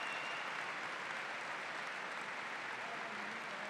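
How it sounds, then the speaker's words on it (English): A basketball crowd at a women's college game between Michigan State and Michigan applauds an injured player being wheeled off, with steady, dense clapping that holds throughout at an even level. "Everyone cheering Woodard on."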